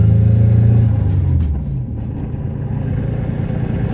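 A JDM Nissan Gloria with a manual gearbox revs up while driving, then the engine note drops after a shift and settles into a steady, close droning rumble.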